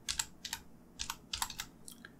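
A computer keyboard being typed on and Enter pressed: a quiet run of crisp plastic key clicks in irregular bursts, close by, with no voices.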